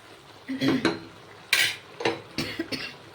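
Chalkumro ash gourd curry cooked with dried shrimp in a pot: a lid lifts with a clink, then several irregular scraping and knocking stirs, close and moderately quiet, with no voices.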